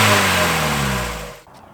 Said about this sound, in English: You get some pretty good induction noises out of this